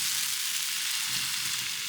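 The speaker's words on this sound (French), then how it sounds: "Donc je mets déjà les bananes, je les fais un tout petit peu cuire pour qu'elles dégagent un petit peu de sucre." Banana pieces frying in a pan before crêpe batter goes in, a steady close sizzle with no voices.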